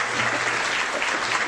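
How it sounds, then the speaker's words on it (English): An audience applauds panelists at the close of a panel discussion on personal information, a dense, even burst of clapping filling the room with no talk. "you can applause to them if you want."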